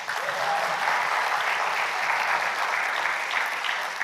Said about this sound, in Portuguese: Pode até aplaudir também